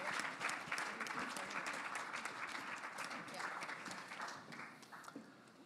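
Sustained audience applause at a cultural entrepreneurship showcase event, dense steady clapping from a large crowd filling the whole stretch, fairly distant with no talking over it.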